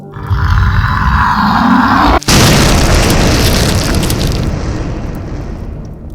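A loud, close explosion from an explosive device in an audio drama, with a sustained roar that cuts off briefly, then bursts into a broad rumbling blast that slowly fades.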